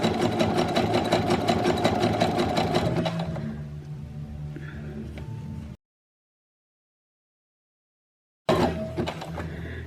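A sewing machine runs fast and steady while stitching a bra seam near the fabric edge, then slows, goes silent for a few seconds and starts up again loudly, close and without talk.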